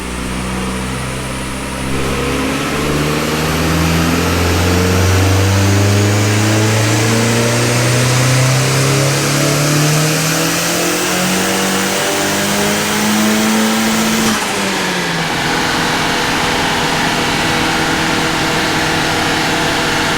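Audi 1.8T Mk2 engine with a full 63mm exhaust, loud and close, climbing through a long steady rev from idle, then dropping sharply and settling back to a rumbling idle.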